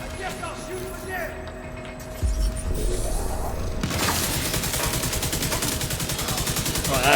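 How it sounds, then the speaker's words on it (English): Rapid automatic gunfire in a video game, a dense stream of sharp close shots that begins partway in and runs steadily to the end, preceded by a heavy thump, with game sounds in the background. "I guess I'll shoot him again."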